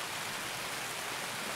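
Rain in the shooter game Escape from Tarkov makes a steady, loud, even hiss of downpour with no voices over it.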